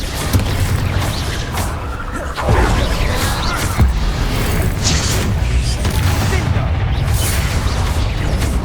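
Confringo fire-spell explosions in the Hogwarts Legacy video game: loud, close booming blasts one after another, over a dense, constant rumble with no pause for the whole stretch.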